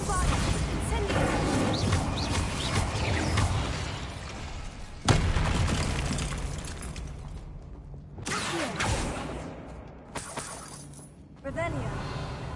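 Explosive spell blasts in a Harry Potter video game, a few sharp bangs and crashing impacts with debris, mixed with game speech and a spell-casting voice between the hits.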